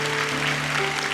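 Congregation applauding in a church to bless newly baptized members during a Sunday service, a steady soft wash of clapping over a low sustained hum, moderately distant and even throughout.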